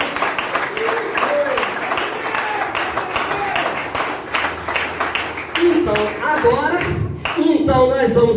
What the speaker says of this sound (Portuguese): eu peço uma salva de palmas ao nosso Deus